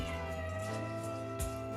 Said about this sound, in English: my cat, if you can hear my cat